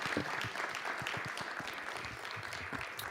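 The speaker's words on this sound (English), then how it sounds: "Let's have another round of applause for all of our honorees" Audience applause for honorees at a county Women's History Month celebration, continuous clapping from a seated crowd in a hall, even and sustained at moderate level throughout.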